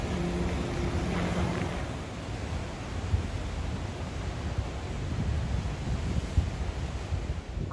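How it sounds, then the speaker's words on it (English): Rough sea surf roars continuously along the Portuguese coast, with heavy wind buffeting the microphone and the occasional thump of a breaking wave. "That's pretty rough water."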